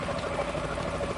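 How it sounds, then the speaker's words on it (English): Helicopter in the Metal Gear Solid 2 video game, a steady, dense rotor-and-engine drone that holds at an even, moderate level without any speech. "Is that a chopper I just heard?"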